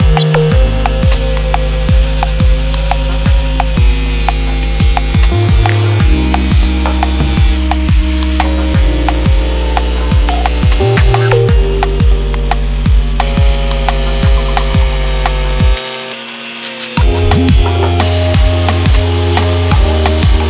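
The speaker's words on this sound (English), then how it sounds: "I lost my cutting wheel for the Dremel, so I have to use the angle grinder" An angle grinder cuts into a plastic Mazda Miata bumper, a loud continuous motor whine broken by repeated sharp bites and chatter as the wheel catches the material, with a brief drop midway, and no talk.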